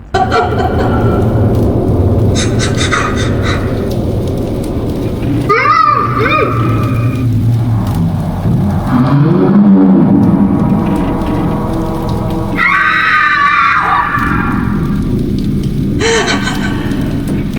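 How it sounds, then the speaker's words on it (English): Ghostly ambience in the Ravenholm chapter of Half-Life 2: muffled, gagged-sounding cries and a distant child's scream rise out of a dense, rain-like background hiss in several brief bursts. "a muffled scream as if someone with a gagged mouth tried to cry out for help, and even a child's scream"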